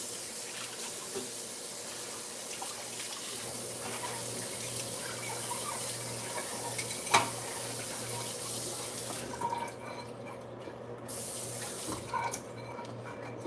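A bowl is rinsed under a running kitchen tap, with water gushing steadily into the sink and one brief knock partway through before the flow briefly changes tone.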